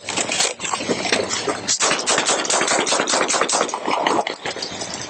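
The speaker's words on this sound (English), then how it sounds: "Three shots fired." Gunfire during a police bodycam encounter in Idaho, a dense continuous burst of loud, close sharp reports with crackling and a steady engine-like rumble under them, filling the full stretch without pauses.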